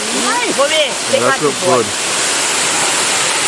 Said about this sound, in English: The waterfall with the sun, wow.